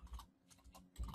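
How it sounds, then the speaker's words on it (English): Someone types on a computer keyboard, a short run of soft, close key taps with a slightly irregular rhythm and no talk. "let me type in"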